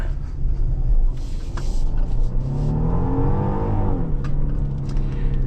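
A 2026 Genesis GV70 SUV accelerating hard in Sport Plus mode, its engine note rising steadily in pitch and loudness as it pulls through the gears, heard from inside the cabin with constant road and wind rumble beneath.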